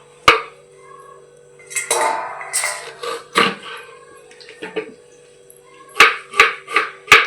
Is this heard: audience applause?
no